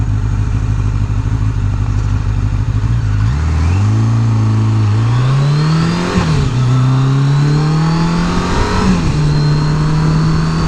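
A car pulls away from a roadside stop, its engine climbing through several gears with rising pitch sweeps and brief dips between shifts, loud and close the whole time.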